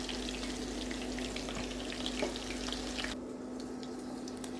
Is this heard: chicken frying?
yes